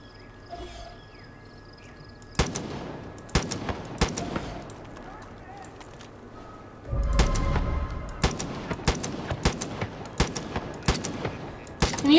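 Gunfire in Far Cry 5, a run of sharp separate shots spread across the stretch as someone shoots a lock, over low game ambience with insect-like chirping and a few spoken lines.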